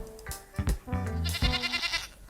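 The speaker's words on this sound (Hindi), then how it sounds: "राजू गांव के सभी लोग की भेड़ बकरियां इकट्ठा करके चराने के लिए जाता है और जब सारी भेड़ बकरियां चरने लगती हैं" Goats and sheep bleating while grazing around a village, several close, loud overlapping cries in quick succession over a short stretch.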